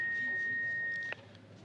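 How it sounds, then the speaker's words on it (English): An answering machine sounds a single long, steady electronic beep that holds for about a second and cuts off sharply into quiet line hiss. "Wait for the beep."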